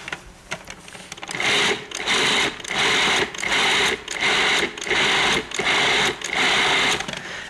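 Cuisinart food processor whirring in short, rapid pulses as it mixes crab meat for crab cakes, about seven loud bursts in a steady rhythm with brief gaps between them.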